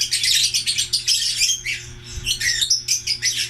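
Pale fallow birds calling steadily during mating, with dense repeated chirps and squawks close by and no talking, over a faint low hum.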